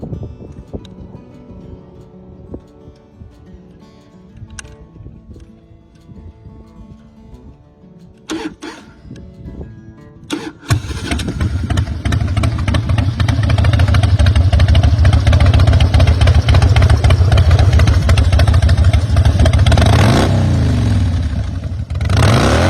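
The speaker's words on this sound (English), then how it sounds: "For sale is a strong-running Harley-Davidson Road King Custom" A 1999/2000 Harley-Davidson Road King Custom with a twin-cam engine cranks and catches, then settles into a loud, close, rumbling idle with rhythmic throttle revs and a trailing fade at the end.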